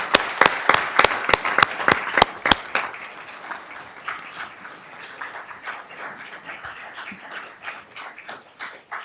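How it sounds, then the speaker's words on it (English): Audience applause at a Sacramento City Unified School District board meeting, opening with a few loud, sharp individual claps that spread into a steady crowd clapping across the room and slowly thin out. "You deserve a round of applause for that."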